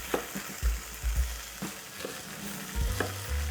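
Korean-style cubes of tofu sizzle and fry in an oiled pan, a steady crackle punctuated by several soft stirring and scraping knocks as pieces are moved.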